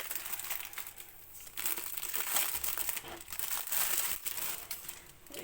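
Crinkly plastic sleeve from a diamond painting kit rustles close and quiet in irregular bursts, handled and shifted with no talking.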